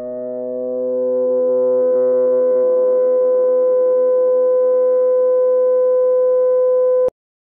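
A three-dimensional flute simulated in Flow360 gives a steady, pure, whistle-like tone with a few overtones. It swells in over the first second or two, holds evenly for about seven seconds, then stops abruptly.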